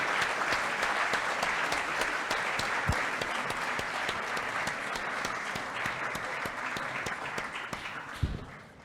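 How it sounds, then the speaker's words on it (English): Sustained applause from a large audience at the Oxford Union, steady and dense clapping throughout, fairly loud and close, tapering slightly near the end. "Don't clap for that."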